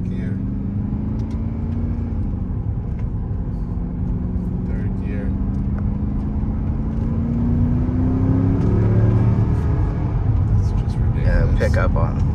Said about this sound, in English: You can hear the engine scream